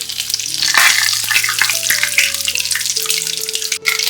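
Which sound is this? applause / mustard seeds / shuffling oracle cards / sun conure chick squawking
mustard seeds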